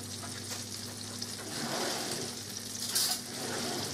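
Garlic fries for chicken piccata with a steady, close pan sizzle and a soft low hum beneath. The hiss stays even throughout, with one brief brighter crackle near the end.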